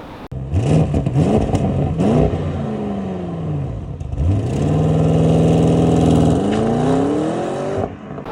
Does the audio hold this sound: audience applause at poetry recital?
no